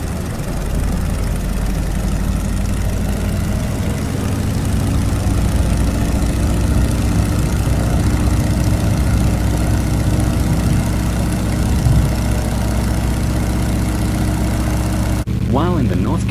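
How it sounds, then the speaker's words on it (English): A Stearman PT-17 biplane's radial engine drones steadily in Microsoft Flight Simulator, a continuous low propeller hum with narration spoken over it throughout. "Stearman, PT-17 aircraft."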